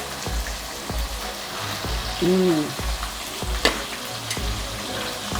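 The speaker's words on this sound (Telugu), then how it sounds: "దీన్ని మంచిగా ఏగాలి ఇది కూడా ఎర్రగా ఏగాలి" Ginger and onions fry in hot oil for a Catla fish curry, a steady close sizzle with periodic stirring scrapes and clinks of a spoon against the pan, plus a brief voice-like hum in the middle.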